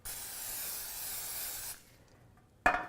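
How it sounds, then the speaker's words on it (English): Cooking spray hisses steadily from a can into an 8x8 or 9x9 baking pan for under two seconds, close and clear. A short sharp clack follows after a brief pause. "I'm going to spray our pan."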